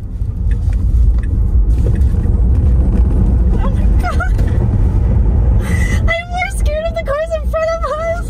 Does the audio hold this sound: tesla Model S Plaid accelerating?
yes